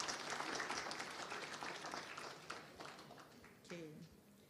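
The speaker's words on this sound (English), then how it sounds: "A round of applause for Yang Mulia Tun Maimun." Audience applause filling a hall at a children's rights symposium at the National University of Malaysia; dense, close clapping that tapers off over a few seconds, with a voice speaking over the fading claps near the end.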